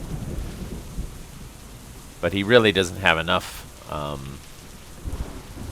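Rain and thunder ambience in the Hex of Steel wargame, a steady hiss with low rumbles running throughout while someone talks over it.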